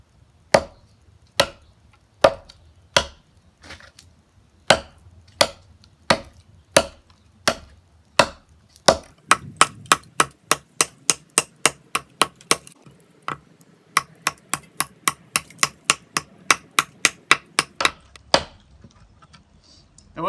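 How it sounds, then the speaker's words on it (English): A Fobos MKB-7 knife chops into a piece of apricot wood outdoors with sharp, steady strikes, slow at first and then a quicker run of evenly spaced blows, loud and close with no talk. "It's a piece of apricot that I've been chopping with."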